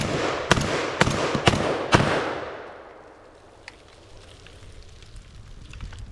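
Genesis Arms Gen-12 12 gauge semi-automatic shotgun firing number 8 birdshot, four loud booming shots in quick, even succession, each ringing out, followed by a long fading outdoor echo and quiet.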